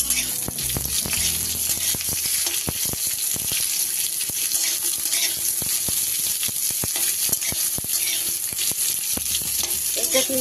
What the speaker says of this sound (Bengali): এবার দিয়ে দেব আমি 2খানা মাঝারি সাইজের পেঁয়াজকে এই যে কিউব করে করে কেটে নিয়েছি